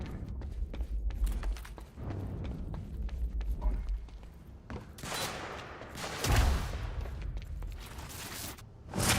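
Pistol fire from the video game Quantum Break comes in a run of sharp cracks, first scattered, then a heavier burst of shots and impacts near the end, loud and close over game ambience.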